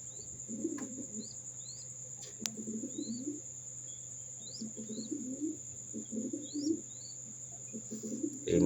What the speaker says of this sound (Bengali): এটা আসলে আমার ব্রিডার কবুতর